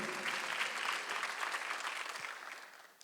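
A church congregation claps together during a Sunday worship service, a dense, even wash of hands that stays strong and then fades near the end.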